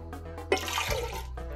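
Water poured into a bowl for crepe batter in a home kitchen, a short splashing, gurgling pour that starts abruptly and runs steadily, close and moderately loud, with no talk.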